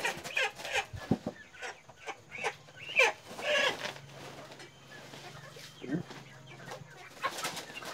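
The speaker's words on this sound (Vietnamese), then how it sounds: "Gà ở đây thì khá là khỏe cô bác ạ." Chickens clucking and squawking at a market, with irregular calls scattered across the scene amid general market bustle and faint voices.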